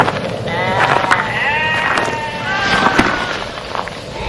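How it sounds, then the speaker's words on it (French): A flock of about thirty sheep lying on hot ground near a shepherd, bleating repeatedly in wavering overlapping calls over a steady outdoor background, close and fairly loud. "Une trentaine de moutons, couchés sur la terre brûlante, se reposaient près de lui."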